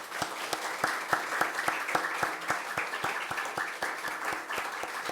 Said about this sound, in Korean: 인사할 때에 뜨겁게 박수로 여러분들이 환영해 주시면 좋겠습니다.